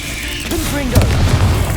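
A Confringo fire spell goes off in the game Hogwarts Legacy, with a short booming burst and crackle following a voice calling out over a steady game backdrop.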